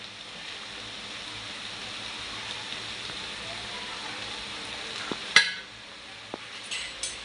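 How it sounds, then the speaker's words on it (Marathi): Chinese noodles mixed with a fork in a pan make a soft, steady rain-like crackle with a few sharp clinks of metal on the pan near the end. "काट्या चमच्याने आपल्याला याला मिक्स करून घ्यायचं व्यवस्थित।"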